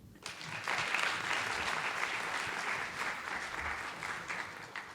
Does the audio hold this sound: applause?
yes